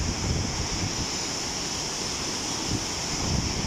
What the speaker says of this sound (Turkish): diğer o büyük şelaleye de geldik